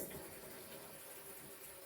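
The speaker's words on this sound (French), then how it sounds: "je rajoute de l'eau du robinet," Lukewarm or hot tap water gushes steadily from a faucet into a laundry basin, a continuous close hiss and splash with no pauses.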